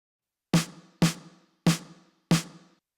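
A sampled snare drum with Abbey Road chamber reverb strikes four times in a steady rhythm, each sharp crack followed by a short, fading room tail, alone and clean.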